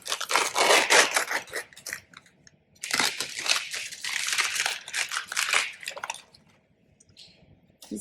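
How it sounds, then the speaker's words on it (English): A corner of a sticker sheet is peeled back with tweezers, giving bursts of close, crisp crinkling and tearing rustle with short pauses between them. "Just grab that corner and you're gonna peel this back."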